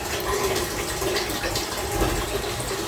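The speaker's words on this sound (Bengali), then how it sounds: "এখানে আমি একদম লো আঁচে ভেজে নেব" Cauliflower and egg pakoras frying in oil over low heat, giving a dense, continuous close bubbling hiss at steady loudness with no talking.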